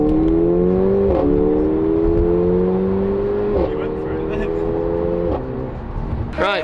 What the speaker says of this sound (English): let's take this A45 AMG and go have some fun in the snow